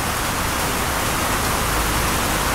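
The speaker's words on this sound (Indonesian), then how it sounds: "Kencengan hujan ya" Heavy rain falls as a loud, steady broadband hiss, close and unbroken, with no other sounds or voices.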